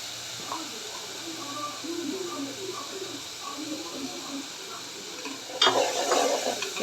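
Onions frying lightly in a pan, a soft steady sizzle with faint stirring scrapes, growing louder and brighter near the end.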